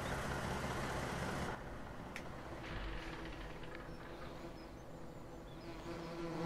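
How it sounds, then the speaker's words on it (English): Bees buzzing in the video game Farming Simulator 17, a continuous droning hum near at hand over faint vehicle-like rumble, with a louder stretch at the start before settling to a softer steady drone. "We get a suitable buzzing of bees."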